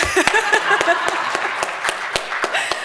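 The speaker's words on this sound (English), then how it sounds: "We can clap for them too." Scattered audience clapping for school leaders at an education talk, a dozen or so sharp separate claps over a murmur of voices, fairly thin rather than a full ovation.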